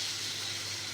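Water poured into a hot pan of Bhetki fish bone curry sizzles into a steady, loud, close hiss of steam throughout.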